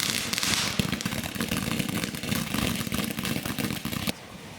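Fireworks crackle and bang continuously at close range beside a wrecked car with a broken glass window and an attached smoke bomb, dense bursts running for about four seconds before cutting off abruptly.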